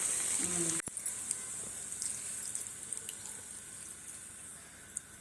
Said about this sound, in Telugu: కాయ మునిగిన దాకా ఒక 3 గ్లాసులు నీళ్ళు పోసిన